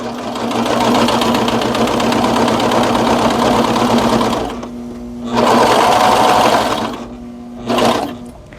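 A cover stitch serger sews fabric in fast, buzzing mechanical runs, stopping briefly and restarting, loud and close with no voices.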